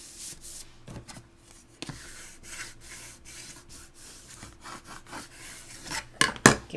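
A glued paper envelope is folded and pressed by hand, giving soft rubbing and scraping strokes that come and go, with a few sharper crinkling presses near the end.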